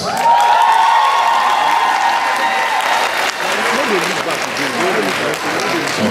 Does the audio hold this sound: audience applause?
yes